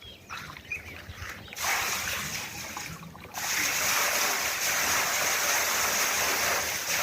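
A steady rush of borewell water gushing from a just-started pump motor begins suddenly and grows louder, a broad continuous splashing roar close by with a faint low hum beneath.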